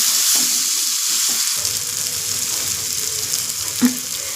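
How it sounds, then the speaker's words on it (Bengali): Ghugni peas frying in a kadai, a steady high sizzle running throughout with brief scraping stirs near the start and a sharper spoon clink near the end, close by and with no talking. "তারপরে ঘুগনি কড়াইগুলো দিয়ে নাড়াচাড়া করে নেব"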